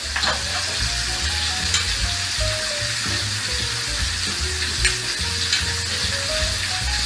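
Oxtail pieces frying in hot oil in a pan, a loud, continuous close sizzle with crackling pops and occasional clinks of tongs or utensil, and no talking.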